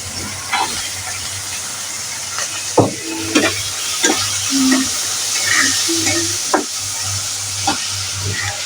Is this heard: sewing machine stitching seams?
no